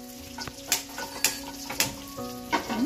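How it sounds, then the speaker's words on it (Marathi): Fish frying in a pan in a home kitchen in Konkan, with a steady hiss and sizzle under sharp, repeated clinks of a utensil against the pan and a low hum in the background. "इकडे माझ्यासाठी टोल मासा फ्राय केल्या प्रज्ञा."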